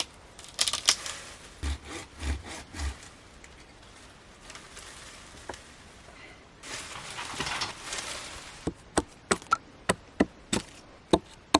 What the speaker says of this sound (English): A little axe is a really good tool for the suckers actually, because you can come in really close to the tree and get a really close cut.